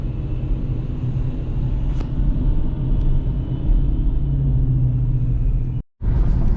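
Steady low traffic rumble from many cars driving along a riverside road, continuous and moderately loud with a brief dropout near the end, no voices.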